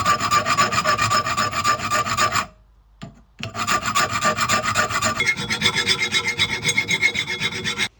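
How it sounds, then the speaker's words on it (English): A hand file rasps burrs off laser-cut metal parts clamped in a vise, long rhythmic scraping strokes in a dense run, a brief pause, then more steady filing, close and loud. "file all of those away"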